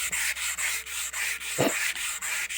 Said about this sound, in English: wet sanding, 600 grit. Sand this area.